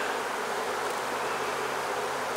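Honey bees swarm around an open, busy hive during an inspection, giving a dense, steady buzz that is loud and close and carries on unbroken with no voices.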